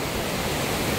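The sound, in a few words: water flowing down from a dam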